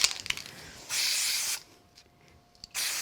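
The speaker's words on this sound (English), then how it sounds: "I'm just going to do a little bit of a spray glue with this" Two short hissing bursts of aerosol spray glue during card making, close by, separated by a quiet pause, with small handling noises at the start.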